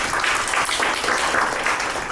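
An audience at a KISTEP forum panel discussion on semiconductor industry strategy claps warmly, a dense, even burst of applause that stays loud and continuous throughout.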